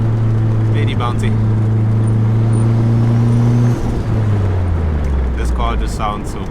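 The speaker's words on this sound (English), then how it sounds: "This car just sounds so cool." A 16-valve wagon car driving, its engine a steady, loud drone with a low tonal hum that drops in pitch partway through, with road noise throughout and faint speech in the background.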